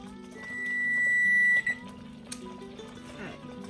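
Kitchen timer going off after four minutes of boiling cranberry jalapeño jam, a steady electronic beep tone held for over a second that cuts off abruptly, then faint kitchen clatter and bubbling.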